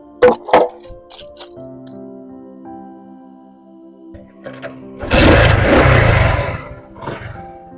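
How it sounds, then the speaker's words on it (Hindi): A motorcycle engine at a repair mechanic's turns over after a few short attempts, then catches and runs loudly for a couple of seconds before idling down, close by with faint background sounds. "ले भाईजान, आपकी बाइक स्टार्ट हो गई।"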